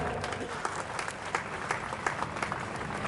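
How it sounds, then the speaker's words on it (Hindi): Loud applause at a public event at Nagda Junction railway station in India, a thick, sustained roar of clapping from a large crowd with scattered sharper claps standing out. "जोरदार तालियों से स्वागत।"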